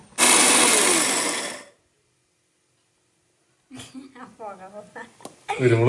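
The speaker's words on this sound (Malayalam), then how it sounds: "ചൂടോടെ പൊടിച്ചിട്ടാ" A kitchen mixer grinder pulverises hot roasted chicken and garam masala spices in a loud roaring burst of under two seconds, followed by silence and then talking.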